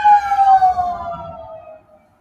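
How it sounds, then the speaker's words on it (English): A wailing emergency siren from an ambulance or fire truck, loud and close at first, then sweeping downward in pitch and fading as the vehicle passes by, with no talking. "Ambulance or fire truck or something."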